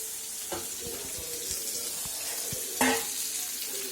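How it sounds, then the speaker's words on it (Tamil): Steady sizzling of onions frying in a hot pan, with occasional clinks and scraping of a utensil stirring. "வெங்காயம் ஃப்ரை ஆகட்டும்."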